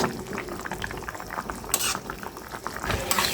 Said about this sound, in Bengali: এখন একটু নাড়াচাড়া দিয়ে দিচ্ছি